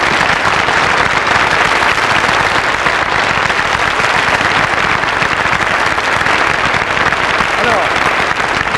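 Loud, sustained applause from a large audience after Hugues Aufray's show, a dense, unbroken roar of clapping at even volume throughout, with some voices mixed in.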